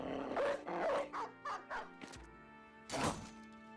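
A war dog in the video game Battle Brothers barks several times in quick succession, then lets out one final louder bark after a short pause, with no speech.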